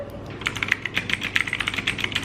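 Rapid clacky keystrokes on a mechanical keyboard with blue switches, a dense run of sharp, close clicks with no talking.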